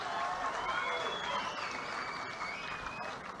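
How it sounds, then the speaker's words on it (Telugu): Audience applause at a public event addressed by CM Chandrababu in Andhra Pradesh, a dense, steady wash of clapping from a large crowd that holds evenly throughout, fairly loud and close. "గట్టిగా చప్పట్లు కొట్టి అభినందించండి"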